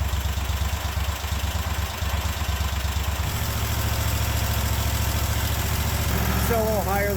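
A Cub Cadet 1050 Hydro garden tractor engine idles steadily nearby with a low, even throb, and a brief rising whine joins it near the end.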